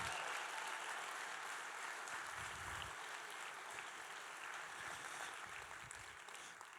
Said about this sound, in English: Can we get a very big round of applause for this gentleman here?